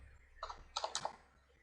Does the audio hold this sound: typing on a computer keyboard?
yes